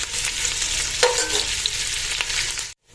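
Onions for prawn biryani fry in a pan with a loud, close sizzle and a few scraping stirs, cutting off abruptly near the end; nobody speaks.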